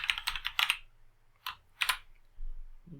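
Quick bursts of computer keyboard typing as a DAX formula is entered in Power BI, a rapid cluster of clicks, then two short isolated keystrokes; close and fairly quiet, with no talking.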